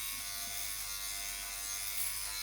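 A Philips Body Groomer 7000 trimmer runs with a steady, thin electric buzz, faint and unbroken throughout.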